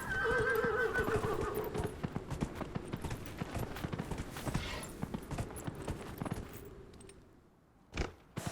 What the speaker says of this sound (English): Oh, yes, horsey.